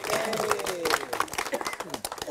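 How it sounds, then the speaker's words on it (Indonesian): A church audience gives lively applause for God, a mix of sharp close claps and a broader crowd patter with some voices calling out, thinning and tapering off toward the end. "Berikan tepuk tangan yang meriah buat Tuhan."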